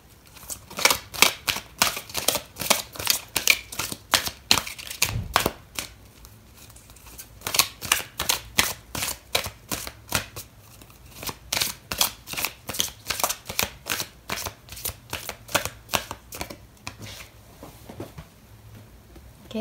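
Tarot cards are shuffled by hand in steady bursts, a rapid, close, papery flicking that repeats for a long stretch with brief pauses and no talking.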